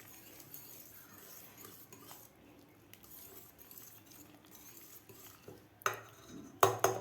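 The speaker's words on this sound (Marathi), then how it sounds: "आता आपण थोडंसं याला मॅश करून घेऊया." Cooked dal and fenugreek greens being mashed in a pot after pressure cooking: soft, quiet scraping and stirring with a few sharper metal clinks and knocks near the end.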